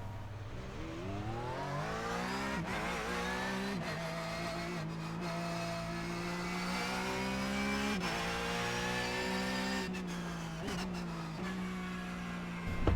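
Porsche 911 GT3 Cup race car engine in iRacing, revving and rising in pitch with repeated sharp throttle blips that briefly interrupt the steady howl, loud and close throughout.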